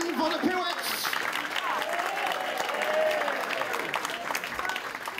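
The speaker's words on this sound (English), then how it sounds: "Can we have a little bit of applause, please, from you people tonight to welcome Vodopivec" Audience applause and cheering fill a comedy club as a comedian is welcomed onto the stage, a dense, steady wash of clapping that stays loud throughout with crowd voices mixed in.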